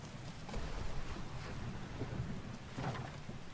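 Steady rain pattering with low thunder rumbling in a fishing video game, a soft, continuous storm bed with no talk.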